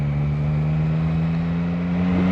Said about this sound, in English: Sounds very beautiful. The 3-cylinder 270 firing rate is perfect.